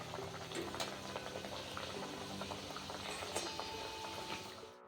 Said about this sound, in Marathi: आपण आता ह्या कचोऱ्या काढून घेणार आहोत आणि आपल्याला दुसरी एक एक कचोरी त्याला टाकून घ्यायची आहे